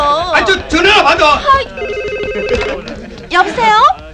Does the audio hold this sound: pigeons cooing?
no